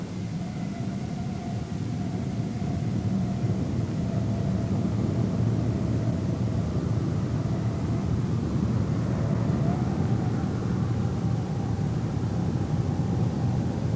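Boeing B-47 jet engines hold a steady, loud broadband roar with a faint tonal whine drifting through, continuous for the whole stretch with no voices over it.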